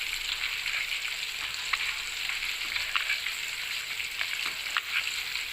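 Rice being mixed by hand with mint chutney (pudina pachadi) at home, giving a steady close-up wet, squishy, crackly texture with small repeated clicks throughout and no talking.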